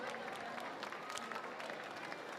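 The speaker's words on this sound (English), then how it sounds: "But give him a round of applause, Sydney." Crowd applause at a world championship campdraft round, a faint, distant patter of clapping that stays even throughout with scattered sharper claps.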